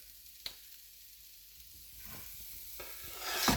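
Garlic dropped into a pan of hot butter during potato cooking, a steady soft sizzle with faint stirring clicks, growing slightly louder and brighter toward the end.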